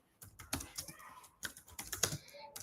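Quick bursts of clicking keystrokes on a computer keyboard as JavaScript code is typed, close and fairly quiet, in two clusters with a short pause between them.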